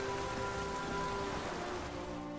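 Rain downpour in the video game The Witcher 3, a steady dense hiss of falling rain, faint and continuous, with no voices.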